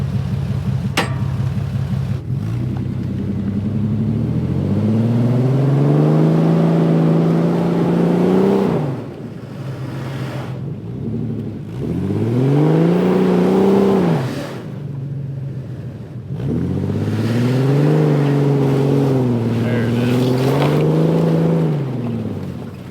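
A vehicle engine revs hard in repeated surges, rising and falling in pitch, while pulling a Ford stuck frozen in snow forward; three long, loud strains come close to the listener.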